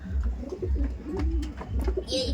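Several Kalanka pigeons coo continuously up close, with low, rolling, overlapping calls over a steady loft background.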